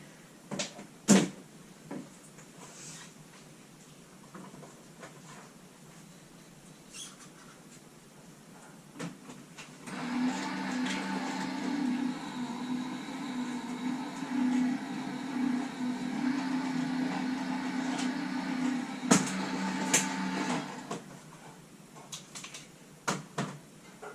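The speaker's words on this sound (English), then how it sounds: "I'm going to go over to the dye machine and cut this out." A die-cutting machine runs for about ten seconds as it cuts out a card piece, giving a steady mechanical rumble and whir with a few sharp clicks before and after.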